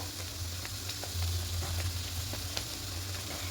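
Chicken fries in a pan with spices and turmeric powder, giving a steady, close sizzle with light stirring clicks scattered through it.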